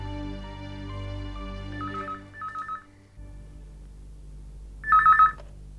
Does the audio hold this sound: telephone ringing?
yes